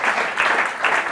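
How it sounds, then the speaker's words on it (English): An audience at a masterclass lecture applauds in a steady burst of clapping, dense and close, with no talking. "Can you clap for Stefano"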